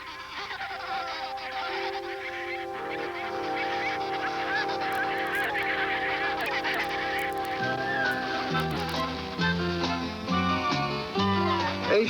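A huge colony of penguins in a harsh, arid habitat calls together in a dense, continuous chorus of honking and braying, loud and layered, from near and far.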